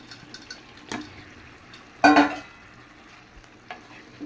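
Pieces of boal fish drop into a spice paste frying in a pot, with one loud splattering sizzle burst among softer clinks and stirring sounds, and no talking.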